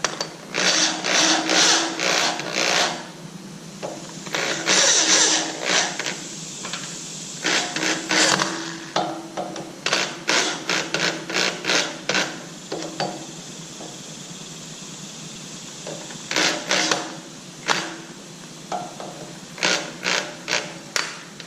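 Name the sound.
driving screws with a power tool on a garage lift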